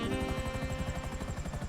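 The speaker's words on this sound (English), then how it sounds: "I'm going to attempt to put this helicopter down on the landing pad there" A helicopter in GTA 5 hovers down toward the landing pad of the Aquarius super yacht, its rotor chopping in a fast, steady rhythm that sounds loud and close throughout.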